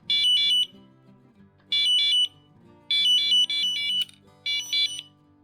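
A Delphin Shocker catfish bite alarm, set off by vibration, sounds repeatedly in bursts of rapid, high-pitched beeps separated by short gaps, close and loud, over a faint low hum.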